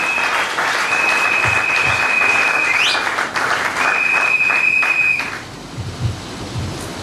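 A church congregation claps and cheers for Jesus in a dense burst of applause, with loud shrill whistles cutting through twice before the clapping thins out.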